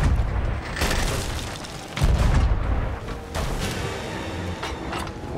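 A ship's cannon fires in a pirate video game with a deep, booming report, one heavy blast standing out among rumbling, creaking ship noise.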